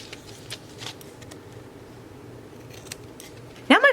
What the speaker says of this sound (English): I'm gonna trim off the edges.